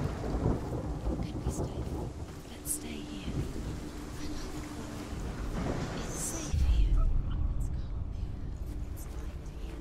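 Steady rain falls through a stormy world in the video game Hellblade: Senua's Sacrifice, with rolling thunder and one deep, heavier rumble near the end, while whispering voices murmur over it.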